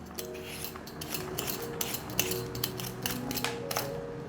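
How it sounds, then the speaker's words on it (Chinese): A potato being peeled with repeated short, rasping strokes of a peeler, close and fairly quiet, in an irregular steady rhythm with no talking. "把马铃薯削皮"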